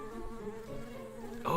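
Buzzing bees in the video game Secrets of Gindea, a steady drone holding throughout at a moderate level and swelling louder at the very end.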